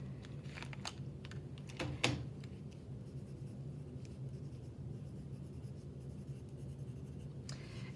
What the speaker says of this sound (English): I'm going to begin by writing my name and teacher code in the corner.